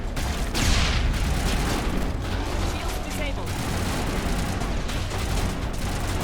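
Grenades explode in Mass Effect 1 Legendary Edition amid a continuous barrage of booms and gunfire-like bursts, loud and dense throughout, with a player talking over it.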